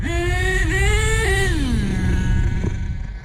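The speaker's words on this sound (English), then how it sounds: "You know, that idle just purrs." A truck engine idles smoothly close by, a steady even purr with a short blip in pitch near the start before it settles back down, alone with no talking.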